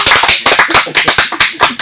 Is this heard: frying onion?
no